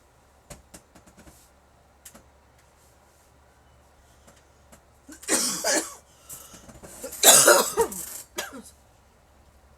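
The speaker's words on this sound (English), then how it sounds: "I don't know where this cough is coming from." Two bursts of harsh coughing, close and fairly loud, separated by a short pause, with faint clicks and quiet background before them.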